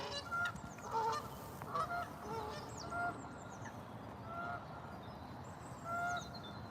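Geese honk repeatedly at a moderate distance in Braunstone Park, calls rising and falling over a low steady background rumble.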